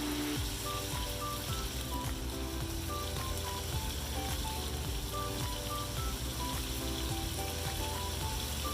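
Beef seasoned with salt sears in olive oil for a stew, giving a steady, close sizzle with crackling pops. A low rhythmic clatter runs underneath, and the frying continues at an even level throughout.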